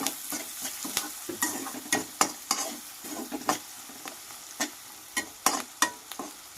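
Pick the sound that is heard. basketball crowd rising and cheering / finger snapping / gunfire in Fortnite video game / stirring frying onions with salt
stirring frying onions with salt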